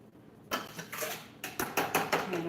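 A knife roughly chopping canned diced tomatoes on a board in a home kitchen, with a quick run of close, crisp taps and knocks that speed up toward the end.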